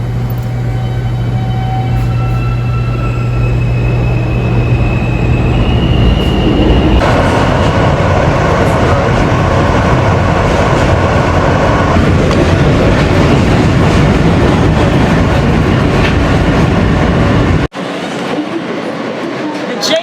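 An elevated New York City subway train rumbles along above ground with loud low-frequency roar and rattling wheels, the tone shifting midway as it speeds up, ending with a sudden drop.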